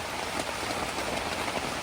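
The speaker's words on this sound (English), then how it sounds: "because it is raining like cats and dogs." Heavy rain drums steadily on a camping tent during a fall camping trip, a dense, even hiss of drops close overhead with no pauses.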